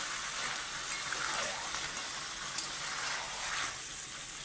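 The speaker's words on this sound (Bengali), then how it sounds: "এই পেঁয়াজ বাটাটা এরকম বেটে দিয়ে দিলাম, নিয়ে আবার উপর থেকে আবার নেড়ে দিলাম ভালো করে" Chicken coated with onion paste sizzles in a pan as it is stirred, with a steady, moderate frying hiss and a few soft scrapes, and no voices.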